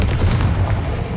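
A Confringo spell explosion bursts in Hogwarts Legacy, a loud, close, rumbling boom that fills the brief moment and decays quickly.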